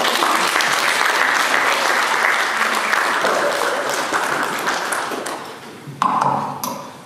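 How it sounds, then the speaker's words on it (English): Sustained applause from an audience at a Pacific community 20th anniversary celebration in Auckland, New Zealand, steady clapping from many hands that thins toward the end, with a sharp burst near the close. "Another big round of applause for Maria"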